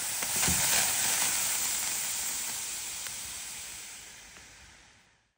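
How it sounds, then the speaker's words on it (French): A small handheld garment steamer blows steam onto a Tunisian crochet swatch of Romney wool, giving a soft continuous hiss that starts strongest and gradually tapers away to silence. "moi, il ne débite pas trop mon petit défroisseur"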